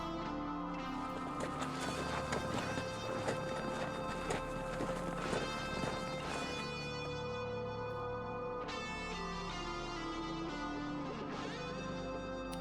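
Horse hooves clip-clop in the Nancy Drew: Secrets of Shadow Ranch game, a steady run of hoofbeats sitting under a dense bed of game music and effects.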